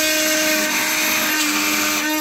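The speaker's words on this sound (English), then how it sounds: "Here is the Milwaukee titanium with wood with nails." A Milwaukee titanium multitool blade cutting through nail-embedded wood, a loud, continuous high buzzing whine of the oscillating tool that grinds on steadily without pause, close up, no talking.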